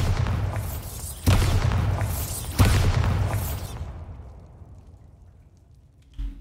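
Bombarda blasting spell in Hogwarts Legacy inside a southern cave: two heavy booming explosions a second apart, each with a long rumbling tail that fades into near silence.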